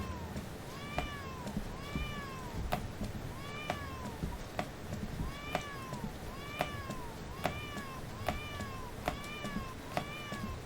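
Repeated video game cat meows sound at a steady pace, roughly one every second, each with a rising-then-falling pitch, over a low background hum.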